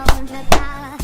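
Two sharp hand claps about half a second apart, close and dry, each a crisp burst with a short decay, followed by a third softer onset at the end; no talking.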